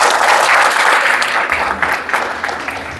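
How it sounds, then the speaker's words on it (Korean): Loud, sustained applause from a seated audience welcoming a speaker to the stage at a poetry lecture event, dense clapping that gradually thins out. "큰 박수로 모시겠습니다"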